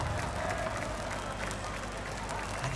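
An arena crowd at the Rio esports finals keeps up a dense, continuous roar of cheering and applause, steady and loud throughout, with faint commentary voices mixed underneath.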